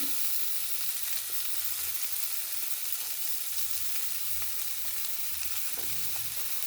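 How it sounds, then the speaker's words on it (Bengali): Mixed vegetables including carrot fry in a pan for a fish and vegetable curry, giving a constant soft hiss and sizzle with faint stirring, fairly quiet and unbroken. "এসব দিয়ে এগুলো ভেজে নেব একসাথে"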